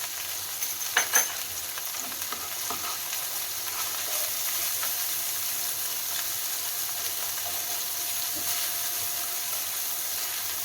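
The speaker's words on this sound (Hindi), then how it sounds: "मटर को 1-2 मिनट तक फ्राई कर लीजिए" Green peas fry with rock salt in a pan over a low flame, giving a steady bright hiss and sizzle that runs unbroken, with a couple of sharp crackles near the start.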